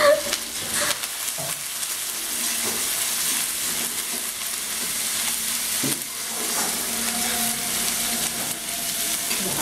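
Tarka frying in a pan, a steady mid-level sizzle with a few stirring clatters, alone without talk.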